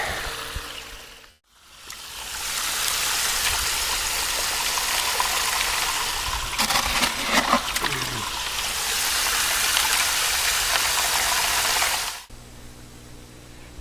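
Buckets of gravel are fed through a water sluice at a gold prospecting dig: a loud, steady rush of flowing water that holds for about ten seconds, with some rattling and splashing in the middle, before cutting off.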